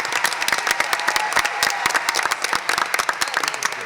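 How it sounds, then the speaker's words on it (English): Audience applause for a panel of speakers at an evening ideas event, with lively close clapping from a modest crowd, individual claps distinct and fairly loud throughout. "let's give one more round of applause to our great set of panelists"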